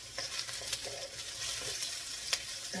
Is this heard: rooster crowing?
no